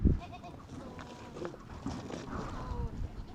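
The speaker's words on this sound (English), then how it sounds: "begins with milking the goats" Goats bleat repeatedly in a pen during morning milking, several calls overlapping at close range against a busy farmyard background.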